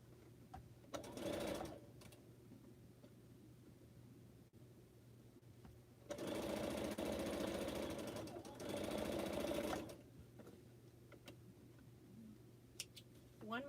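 A sewing machine stitches through thick quilt seams at a corner of a pineapple block, running in short bursts and two longer steady runs with pauses between, while a voice talks quietly in the background.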